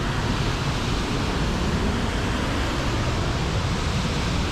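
A waterfall in Scotland roars steadily and loudly from very close, a dense unbroken rush of falling water with no voices over it.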